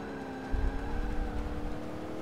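A Chevelle muscle car engine in a racing video game growls with a steady low rumble, swelling in a brief rev about halfway through and holding loud and close to the end.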